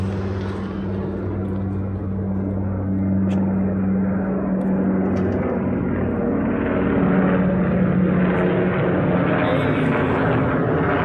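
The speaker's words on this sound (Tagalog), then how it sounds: "Diyan ang helicopter guys." A helicopter flies overhead above Riyadh, its engine and rotor drone forming a loud, continuous rumble that holds steady for about eleven seconds with no talking.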